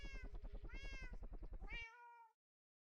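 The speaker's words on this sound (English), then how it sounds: "Oh, go and sit down, cat." A pet cat meows in a long, drawn-out, wavering call indoors, fairly close, ending in a rising then trailing tone before silence.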